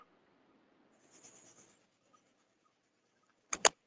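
Pen or chalk scratches across a board during a Hindi lecture on medieval Pala-style painting, faint bursts of writing strokes in a quiet room, followed near the end by two sharp, close taps.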